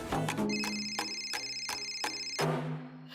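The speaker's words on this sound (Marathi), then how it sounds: "फोन वाजतोय" An indoor telephone rings at night in a Marathi TV drama, its bright electronic tone repeating in quick bursts for about three seconds with no speech.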